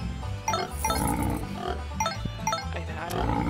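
Pigs oink and grunt repeatedly in the Farm Frenzy 4 farm game, close and fairly steady, with chiming game effects scattered over the grunting.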